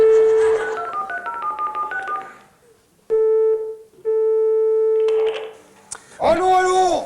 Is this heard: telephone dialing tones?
yes